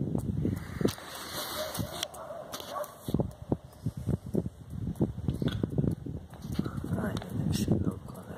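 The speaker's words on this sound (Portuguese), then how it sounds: "Olha lá o cachorro." A Fila Brasileiro dog barks outdoors in Mairiporã, with repeated sharp barks and yips mixed with close, ongoing talk from people nearby.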